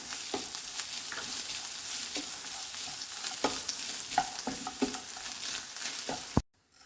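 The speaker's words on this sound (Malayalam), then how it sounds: "അതിലേക്ക് നമുക്ക് അര കപ്പ് തേങ്ങ ചേർത്ത് കൊടുത്ത് മിക്സ് ചെയ്തെടുക്കാം" Cashews, raisins and grated coconut stirred in a hot pan, a steady close sizzle broken by repeated scrapes and knocks of the spoon against the pan, cutting off abruptly at the end.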